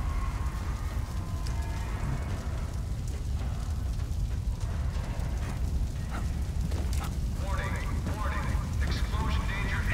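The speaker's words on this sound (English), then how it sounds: "Explosions." Explosions in the stealth video game Splinter Cell: Blacklist come through as a continuous low rumbling roar with crackling debris, steady and fairly loud throughout, with no speech over it.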